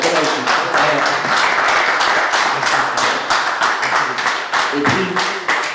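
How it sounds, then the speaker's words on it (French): Colleagues give a round of applause at an honour ceremony, steady close clapping from a small group that carries on for several seconds, with a few louder thumps near the end. "je vais demander un tonnerre d'applaudissements à mes collègues pour la bonne réussite"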